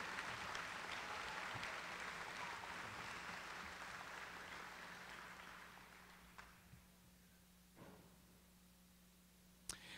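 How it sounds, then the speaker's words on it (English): Graduation ceremony audience claps in a broad, even wash that fades gradually over several seconds, leaving a few isolated claps and quiet room tone near the end. "One more round of applause, please,"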